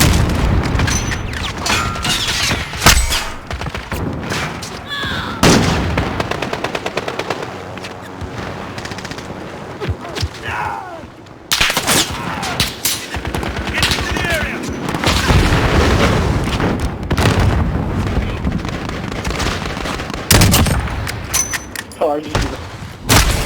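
Video game gunfire, played with a Steam Controller: rapid machine-gun bursts and louder thumping blasts crackle throughout, loud and close, while excited voices talk over the shooting.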